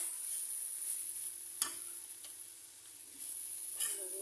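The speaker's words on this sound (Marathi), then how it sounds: "भाजून घेता." Goan-style pork chilli fry sizzles in a pan with a steady, soft hiss, broken by a couple of brief stirring scrapes.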